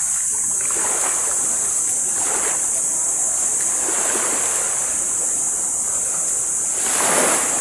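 Steady ocean surf washes on a beach in Cabongaoan, Burgos, Pangasinan, with waves swelling and breaking in slow surges in the morning, loud and close, with wind noise throughout and no talking.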